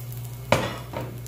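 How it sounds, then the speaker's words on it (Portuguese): Grated potato rosti fries in olive oil in a pan. A low steady hum and faint sizzle run under one sharp utensil clatter near the middle, then a softer scrape. "Vou jogar um pouco de azeite aqui em cima."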